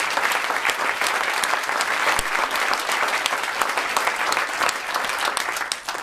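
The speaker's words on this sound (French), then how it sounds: "vous êtes venus nous applaudir" A theatre audience applauds after a farce performance, loud dense clapping that carries on evenly throughout.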